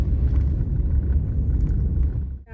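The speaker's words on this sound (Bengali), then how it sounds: "বাসটা আস্তে আস্তে চলছে।" A bus moves slowly along a snow-covered road in Canada during a snowstorm, giving a deep, even rumble of engine and tyres that dips briefly near the end.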